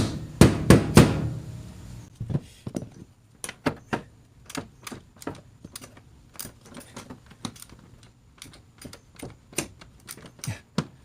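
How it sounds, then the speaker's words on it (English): A half-inch socket being hammered onto a bolt on a 1992 Airstream Excella, with a quick cluster of sharp metallic strikes, then a long irregular series of single taps and knocks, close and fairly loud. "This is the 1/2 inch. I'm going to have to kind of pound it on there."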